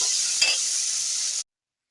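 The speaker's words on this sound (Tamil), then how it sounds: "ரெண்டு தக்காளி கட் பண்ணி வச்சுருக்கேன் அதை சேர்த்துக்கிறோம் தக்காளி நல்லா வதங்கிட்டு" Tomatoes and onions sautéing in a pan for mutton curry give a steady close hiss of sizzling oil, with a brief stir scrape before the sound cuts off abruptly.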